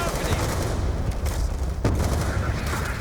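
Call of Duty: Black Ops 2 story mode firefight, dense, continuous gunfire and booming shots blended into a loud, unbroken battle roar, with a voice mixed in.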